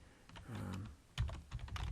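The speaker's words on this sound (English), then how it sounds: "and then I can just type" Typing on a computer keyboard, a run of light clicking keystrokes in uneven bursts, close and fairly quiet, with no talking.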